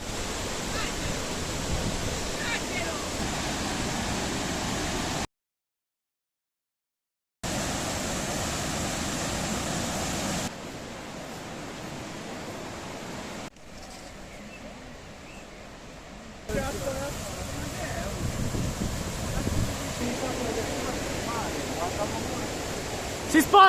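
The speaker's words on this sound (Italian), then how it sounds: "Ah, ma guarda quanta casca acqua!" Steady broadband roar of the Marmore waterfall in Umbria under rain, a continuous rushing wash that drops out briefly and changes level between segments, with people talking over it.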